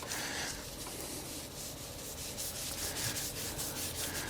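Thick, grabby tire dressing rubbed onto a car tire while detailing an E30 M3, a close, continuous scrubbing and rubbing sound with repeated strokes and no talking.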